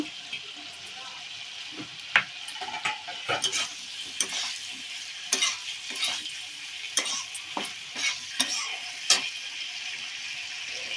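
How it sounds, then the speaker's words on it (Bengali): Vegetables fry in spiced oil in a pan, giving a soft sizzle under repeated scraping and clinking of a spoon stirring, with sharp utensil knocks scattered through. "এবার এতে আমি সব সবজিগুলো দিয়ে দেব।"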